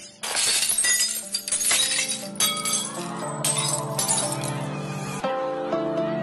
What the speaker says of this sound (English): all the energy in the sound of the singer's voice is transferred to the glass, and it shatters